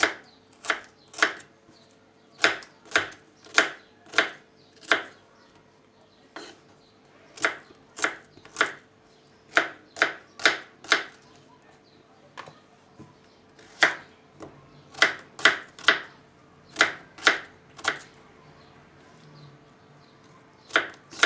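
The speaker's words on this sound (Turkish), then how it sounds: "soğanlarımızı doğradık." Sharp knife chops onions on a cutting board in quick clusters with short gaps, close and crisp, with no voices.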